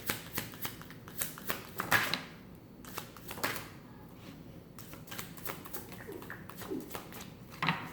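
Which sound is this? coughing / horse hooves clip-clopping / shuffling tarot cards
shuffling tarot cards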